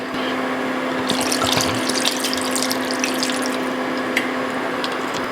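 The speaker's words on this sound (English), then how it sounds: "I added about 1 cup of vinegar and about half a cup of water." Vinegar and water are poured into a pan of pork ruffle fat on a stovetop, a steady close liquid rush with small splashes and drips over a constant low hum.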